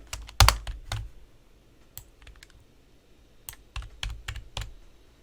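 Sharp clicks from a computer keyboard as keys are pressed, near and distinct: a loud cluster at the start, scattered single taps, then another quick run of presses, with no talk.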